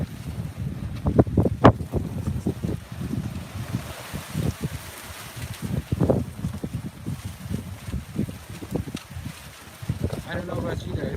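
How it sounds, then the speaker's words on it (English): Outdoor wind buffets the microphone in steady, low rumbling gusts that swell and fade, and a person talks over it throughout. "Can you guys still hear the wind?"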